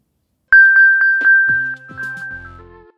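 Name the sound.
Apple Find My Play Sound chime from device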